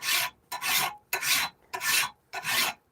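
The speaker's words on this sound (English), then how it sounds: "To me, it's quite impressive what a sharp file can do. It can eat through steel pretty quickly." A hand file rasps across a hand-forged steel Bowie knife in five close, evenly spaced strokes about half a second apart, each a harsh scraping burst with silence between and no talking.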